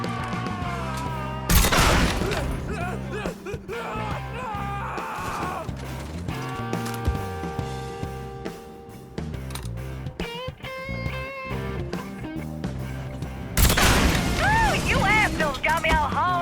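Gunfire in the video game Mafia III cracks in repeated bursts amid mechanical clatter and game music, with a couple of louder blasts, while a voice talks over the action.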